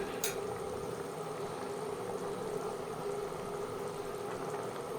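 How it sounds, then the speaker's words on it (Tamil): Sardines (matti fish) dropped into a boiling fish curry gravy: a steady, continuous bubbling simmer with one brief splash-like hiss near the start, no talking. "ஸோ நான் மத்தி மீன் போடுறேன்"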